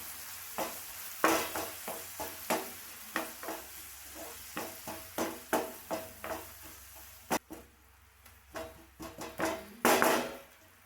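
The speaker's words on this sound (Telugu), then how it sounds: "ఒక 200 గ్రాములు మెంతాకు కూరని ఇందులో వేసుకొని ఫ్రై చేసుకోవాలి" About 200 grams of fenugreek leaves fry in a pan for curry, stirred with a steady run of scraping strokes against a background sizzle, close and clear with no talking.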